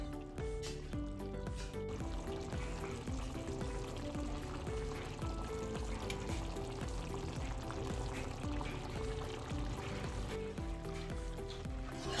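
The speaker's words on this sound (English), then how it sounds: "I'm going to add a little bit more water in there" Water pours into a pot of Jamaican brown stew chicken, a steady continuous splashing stream heard close and alone, quiet overall.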